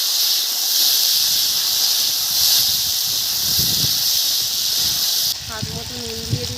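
Diced potatoes hit hot oil already tempered with a dried chilli, cumin seeds and two bay leaves, giving a loud, dense, continuous sizzle that cuts out near the end, followed by a few clanks of a utensil.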